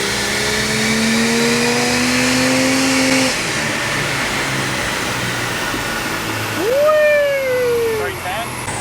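A Ferrari fitted with a Ford Barra engine runs under load on a dyno, a loud, steady engine tone climbing under full throttle before easing off, then surging again briefly, with people talking over it.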